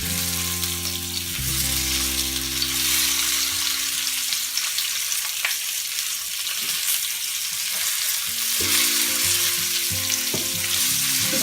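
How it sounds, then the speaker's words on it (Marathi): Malvani-style spicy salmon fish pieces fry in a pan with a continuous hissing sizzle, close and steady, while low background music tones run underneath. "आपला मासा छान फ्राय होतोय।"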